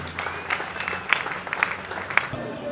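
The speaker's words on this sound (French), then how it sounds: "Est-ce qu'on peut acclamer pour cette idée?" An audience at a Christian musicians' gathering applauds in a steady, moderately loud wash of clapping, with several sharper claps standing out and a voice faintly underneath.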